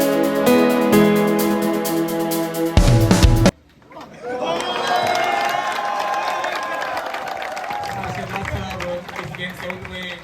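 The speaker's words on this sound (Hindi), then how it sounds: "जोरदार तालियां बजा दें यार, जोरदार" An audience at a school final ceremony claps and cheers loudly for teachers in a competition round; the crowd noise swells suddenly after a few seconds of loud music cuts off, then carries on as a dense, sustained roar of clapping and voices.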